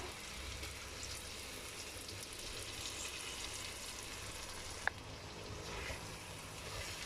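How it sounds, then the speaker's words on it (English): Chicken masala cooking in a pan with a little water added, a soft continuous hiss and bubbling with a single small clink partway through, close and steady. "Now we add in a little bit of water."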